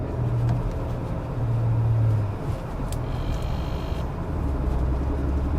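A 2025 Infiniti QX80 SUV cruising on the road in standard drive mode, with a steady low road and engine rumble and broadband tire noise throughout, without speech.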